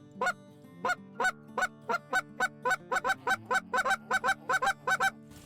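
A DRC Call Co game call worked by mouth gives a run of sharp, clucking honk-like notes, evenly spaced and starting slow, then quickening into a tighter, faster rhythm, loud and close with no talk.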